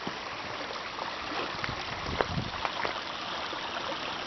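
Water rushes and gurgles steadily in a broad, constant wash, with a few brief splashes rising above the flow.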